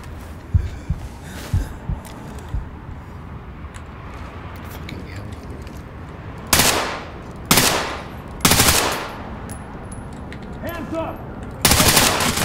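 Bursts of gunfire in the tactical shooter game Ready Or Not: a few scattered shots early, then several loud, sharp volleys in rapid succession, the final one near the end.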